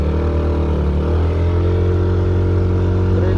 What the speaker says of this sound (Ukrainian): Перевіряємо, як скутер набирає швидкість.